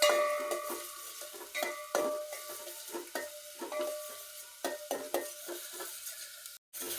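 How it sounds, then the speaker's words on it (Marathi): Chopped onion sizzles in hot oil in a pan while being stirred with a metal spoon, giving a steady faint frying hiss broken by frequent scraping clinks against the pan. "तेल गरम झालेलं आहे, आपण त्याच्यामध्ये कांदा टाकून घेणार आहोत।"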